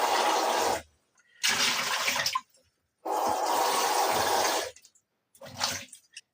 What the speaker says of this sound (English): So let me just rinse this out quickly first.